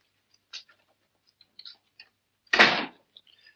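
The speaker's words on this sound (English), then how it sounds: "Go outside and close the door." In a 1944 Sherlock Holmes film scene, a door is shut with one solid thud, preceded by faint scattered shuffles and small clicks in an otherwise quiet room.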